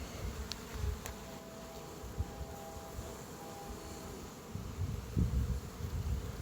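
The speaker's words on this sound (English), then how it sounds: "Good looking frame of bees" Honey bees on a hive frame drone in a steady, close buzz with a low rumble underneath, occasionally swelling in loudness as the frame is handled.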